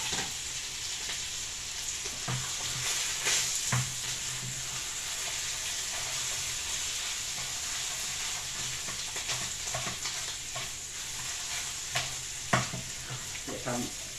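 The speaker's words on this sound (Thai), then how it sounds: "เดี๋ยวทำผัดให้หมูมันสุกก่อนนะครับ" Pork being stir-fried in a pan for a Thai basil pork dish, a steady soft sizzle with occasional scraping clicks of a utensil against the pan, faint and continuous throughout.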